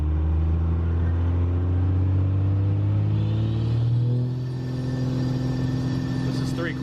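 A vehicle with a swapped-in 5.7 Hemi V8 and a boost setup pulls under three-quarter throttle. The engine gives a loud, low, steady drone that holds throughout, with only a slight dip in the middle.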